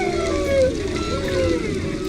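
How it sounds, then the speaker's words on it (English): Noisy underwater field recording of several whales calling at once, their overlapping tonal moans and sweeping calls layered over dense low rumbling background noise. "Multiple animals vocalizing on top of one another in a noisy environment."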